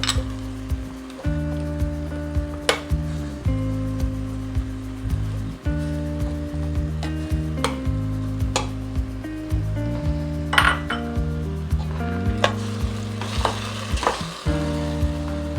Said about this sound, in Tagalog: Halu-haluin natin para hindi siya dumikit or masunog